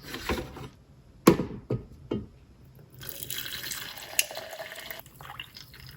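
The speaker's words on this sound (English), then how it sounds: "I am now going to brush my teeth, wash my face, get ready for bed" Bathroom sink tap running while washing the face at night, with a few sharp knocks and clatters at first, then a steady close stream of water splashing with small bumps.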